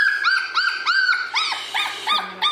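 A chunky three-week-old puppy whimpers and yips while its collar is changed, a series of about eight short, high, rising-and-falling cries in quick succession, close and clear with no talk.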